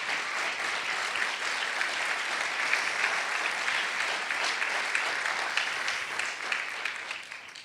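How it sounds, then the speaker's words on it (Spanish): A church congregation applauds steadily and loudly, a dense wash of many hands clapping that holds evenly for several seconds before tapering slightly at the end, with no voices standing out. "Dale un fuerte aplauso a Él"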